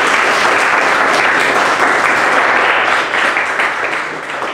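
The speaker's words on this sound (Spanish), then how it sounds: "un aplauso fuerte" Loud, dense audience applause at a talk on musical groups, steady throughout and fading slightly near the end, with no talk over it.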